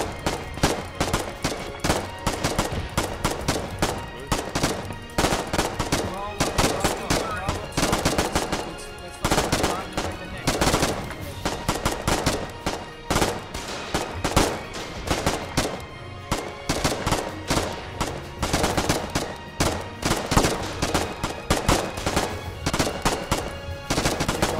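Sustained machine-gun fire pours into an enemy forward base in the Foxhole war game, rapid dense volleys of gunshots rattling without pause for over twenty seconds, loud and close, with faint voices buried underneath.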